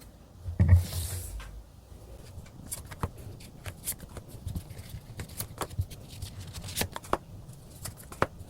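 Tarot cards shuffle and are drawn in a series of soft, papery riffles and flicks, close and fairly quiet, with a heavier rustle near the start and scattered light snaps throughout; nobody speaks.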